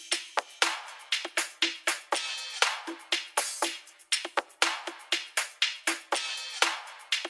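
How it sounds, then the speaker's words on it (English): Soloed percussion loop built from chopped, rearranged sampled bongos, two varying hi-hats and a shaker, playing a busy, steady groove of dense rapid hits with bright shimmering tops, no voices. "a sampled bongo loop that I've kind of chopped and rearranged, 2 varying hi-hats, and a shaker."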